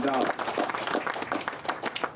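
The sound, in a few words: audience applause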